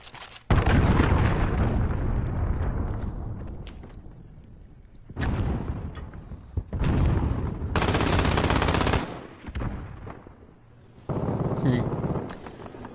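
Call of Duty Modern Warfare 2 combat: loud bursts of machine-gun fire and explosions arrive in several separated volleys with quiet gaps between them, and a player speaks briefly.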